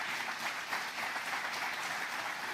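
Church congregation applauding, a continuous even wash of many hands clapping at a steady level, heard from some distance.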